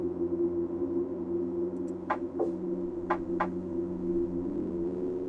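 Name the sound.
Morse code tapping over phone line, video game Reverse: 1999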